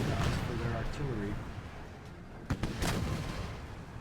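Cannon and artillery fire in the Empire: Total War battle game, a few sharp booms and thumps landing mid-distance over a continuous bed of battlefield noise, with someone talking over it.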